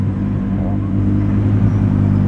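A Lamborghini Huracan Performante engine in Corsa racing mode drones with a steady, loud low rumble from close by, holding an even tone for a couple of seconds without any sharp revving and with no one talking.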